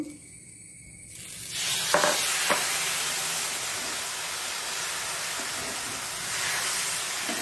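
Ragi vegetable neer dosa batter hits a lightly oiled pan and erupts into a loud, sustained sizzle after a quiet start, with a couple of brief knocks, continuing close and steady without speech.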